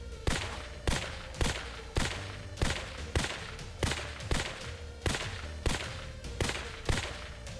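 Rooftop guards gunning down zombies in the Terminus: Zombie Survivors video game: a steady series of about a dozen evenly spaced gunshots, each sharp and punchy with a short decay, close and moderately loud over a low background rumble.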